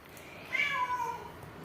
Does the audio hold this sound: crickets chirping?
no